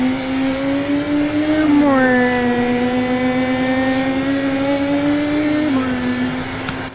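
Game engine of a McLaren car in Car Crushers 2, a loud steady drone that shifts pitch a couple of times as it revs and settles, close and sustained; no talking over it.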